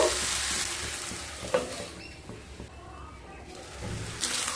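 Hilsa fish heads stir-fried with taro stolons in a pan, with a steady sizzle, a sharp spatula knock and scraping stirs, close and fairly loud.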